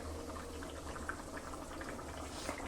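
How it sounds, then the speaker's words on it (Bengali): Egg curry boiling vigorously in a pot, a dense steady bubbling and gurgling close by, with a low rumble underneath and no voices. "ডিমের তরকারি এখন ফুটছে, একটু জোরে জোরে ফুটিয়ে এবার বন্ধ করে দেবো"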